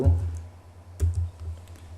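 Commands typed on a computer keyboard, two bursts of close key clicks about a second apart with a low thudding undertone between them.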